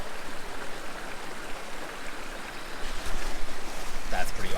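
Running water from a creek beside a camping hammock, a continuous broadband rush and burble heard alone, growing a little louder in the final seconds.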